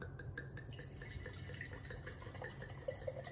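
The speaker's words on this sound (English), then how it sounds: "let's give it a pour" 1994 Clos du Val Merlot red wine poured from the bottle into a glass, a steady liquid trickle with faint splashing that runs quietly and continuously throughout.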